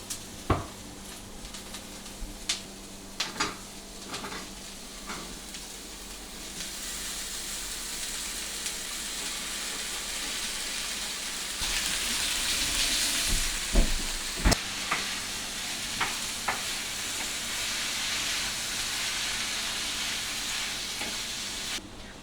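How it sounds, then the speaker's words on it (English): Onions and other ingredients cook in a pan with a continuous soft sizzle and hiss, broken by scattered clicks and scrapes of stirring, swelling louder midway as more goes into the hot pan. "these onions are starting to get translucent, so I'm going to add in the rest of our ingredients and cook them just for a little bit"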